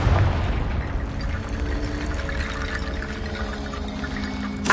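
A Confringo blasting spell fires off in the Hogwarts Legacy video game: a sustained rumbling, crackling burst with a rushing, pouring texture runs for several seconds, loud and steady, with a sharper hit at the end and no talk.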